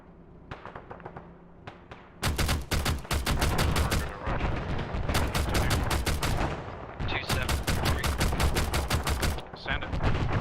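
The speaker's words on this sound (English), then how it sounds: "we're taking pretty heavy GMG fire at this moment" Grenade machine gun and rifle fire in a military video game, dense rapid bursts of loud, close shots and thuds hammering almost continuously after a quieter opening.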